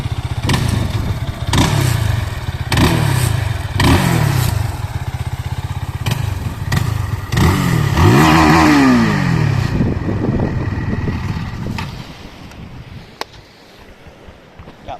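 A Benelli BN251 250cc single-cylinder motorcycle engine putters close by with a steady, thumping beat, revving briefly before fading into wind noise.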